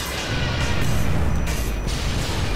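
Explosions in the video game Modern Warfare 3, a dense rumbling burst of blasts with booming low end and crashing debris, sustained and loud for a couple of seconds.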